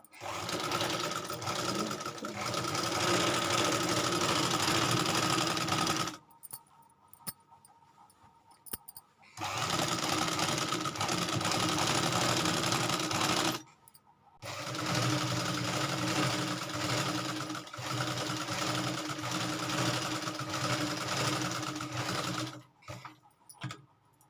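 Sewing machine running a topstitch along a salwar waistband belt, in three long steady bursts of whirring stitching separated by short pauses, close and loud with no talk.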